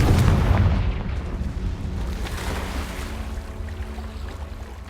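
A Confringo fire spell explodes in Hogwarts Legacy, one heavy booming blast up front that decays into a lingering low rumble, with no talking.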